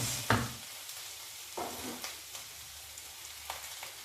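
Minced meat frying with potato, carrot and onion for samosa filling, a soft sizzle under occasional louder scrapes and stirs of a spoon against the pan, quiet and close.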